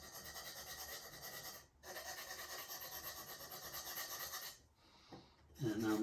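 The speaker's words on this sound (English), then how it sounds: "So this diamond file is specifically designed for resharpen my tools, my loop tools." A 600 grit diamond file rasps along a tungsten carbide loop tool, giving close, steady back-and-forth filing strokes with a brief pause partway through and a faint breathy sound near the end.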